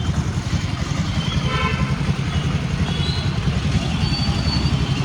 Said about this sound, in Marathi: ट्रॅफिक आहे बाबा.